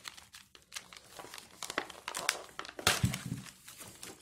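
A plastic package is torn open by hand without scissors, giving a few seconds of close crinkling and ripping with sharp tearing bursts and irregular crackles.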